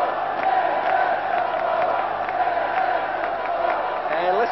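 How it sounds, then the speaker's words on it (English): Czechoslovakian ice hockey crowd at a 1989 exhibition game against the Soviet Union, a steady dense roar of cheering and shouting that fills the arena continuously, with no break in the noise. "listen to that Czechoslovakian crowd"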